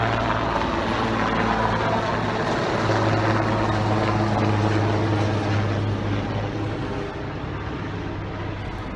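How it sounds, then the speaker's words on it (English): A sheriff's helicopter flies over Eaton Canyon, its steady rotor drone filling the air, loud and continuous, easing off slightly near the end. "It's a helicopter flying overhead."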